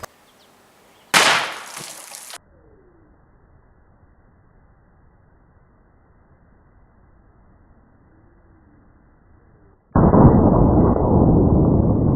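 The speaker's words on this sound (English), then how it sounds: "Here goes with the 300 Blackout 245 grain cast." A 300 Blackout rifle firing a 245 grain cast bullet outdoors at milk jugs: one sharp, loud gunshot bursts out and decays over about a second, followed by quiet, then a loud broadband hiss of wind or handling noise near the end.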